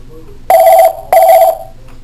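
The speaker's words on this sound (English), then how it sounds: "Use the up and down arrows on the phone to adjust the volume." An NEC office desk phone on an IPKII, SV8100 or SV9100 system rings in two loud, close electronic bursts of about half a second each, a short gap between them, with no talking.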